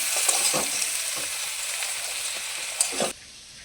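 A spinach and vegetable mixture with slit green chillies and chilli powder is stirred in a frying pan, giving a continuous close sizzle broken by soft scraping strokes, then cutting off abruptly near the end.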